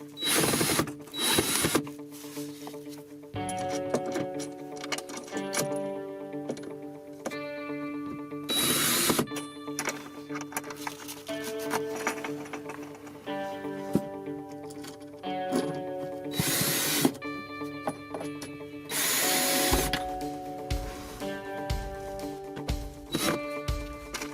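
A power drill drives fasteners under the floor of an off-grid shed, with repeated whirring runs of varying pitch separated by brief pauses and clicks, moderately close over about twenty-four seconds.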